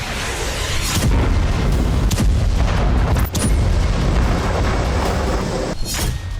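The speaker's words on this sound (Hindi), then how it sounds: "धमाके ईरानी डिफेंस फोर्सेस के ठिकानों पर हो रहे हैं" Loud, heavy explosions at Iranian defense force sites boom and blast repeatedly over a dense, roaring background, with sharp cracks near the start and end.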